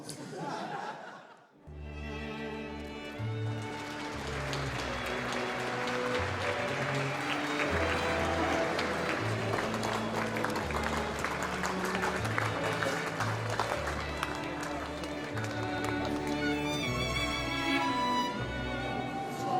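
Guests at an ambassador's reception break into sustained applause after a brief quiet start, clapping filling the room with scattered chuckles mixed in, and music sounding through the clapping.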